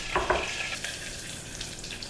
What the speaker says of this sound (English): those milk solids deep fry in the milk fat